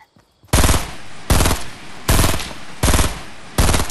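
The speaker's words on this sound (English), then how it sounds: "Whoa, I'm getting sniped at." Five loud, sharp gunshots crack at steady intervals of under a second during a Fortnite match while a sniper targets the player, with near-silence before the first shot.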